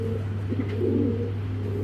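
A brief, soft low coo from a farm-bred racer pigeon over a steady low hum.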